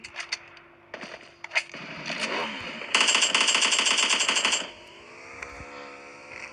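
Bursts of rapid automatic gunfire crackle in PUBG Mobile Lite, loud sustained rattling in the middle, with scattered shots and effects around it.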